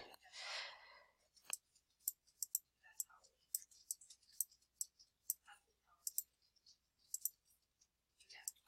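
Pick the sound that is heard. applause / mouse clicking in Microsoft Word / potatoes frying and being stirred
mouse clicking in Microsoft Word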